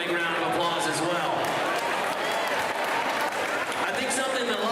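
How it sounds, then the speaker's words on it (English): An audience at a documentary finalists showcase applauds the directors, dense sustained clapping holding steady and loud throughout, with some voices and crowd noise mixed in. "Give those other directors a big round of applause as well."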